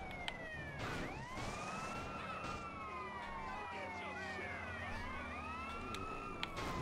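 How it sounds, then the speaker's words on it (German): A police car siren in the video game GTA San Andreas wails continuously, rising and falling in long sweeping tones over a steady engine-like rumble, loud and close. "Ich würde gerne die Sirene ausmachen"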